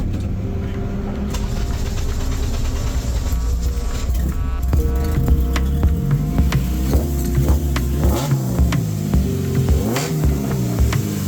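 A race car engine at Lime Rock cranks and catches, then runs loud and close with rising revs and sharp blips, after a connector fault on the throttle position sensor was repaired.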